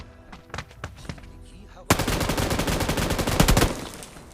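Gunfire in the mobile game PUBG New State: a few scattered single shots, then a loud, sustained burst of rapid automatic fire that continues to the end.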